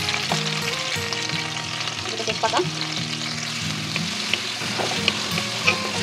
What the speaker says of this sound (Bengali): পেঁয়াজটাকে একটু সময় নিয়ে ভেজে নিব